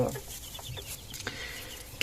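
Pekin bantam chickens in a breeding pen cluck softly in short, scattered calls, close by and fairly quiet, with a louder squawk at the very end.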